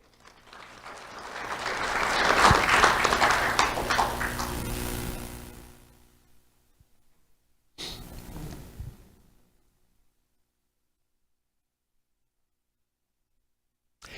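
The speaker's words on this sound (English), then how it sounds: "Let's have a round of applause for Heidi Bogue." Applause from an audience at a sheriff's office awards ceremony for community recognition, building to a loud, sustained ovation for several seconds, fading away, then a shorter second burst of clapping before silence.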